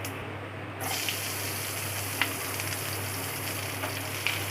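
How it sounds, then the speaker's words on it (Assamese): Steady oil sizzle from onions frying in a pan with bay leaves, with a low constant hum and a few faint clicks from utensils. "আৰু পিঁয়াজখিনি ভালকৈ ভাজি ল'ম যেতিয়ালৈকে পিঁয়াজখিনি ৰঙচুৱা হৈ নাযায়"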